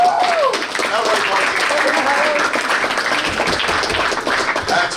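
An audience at a Baldwinsville boys varsity ice hockey banquet claps for the players' parents: steady, dense applause held at an even level throughout, with a voice briefly audible at the start.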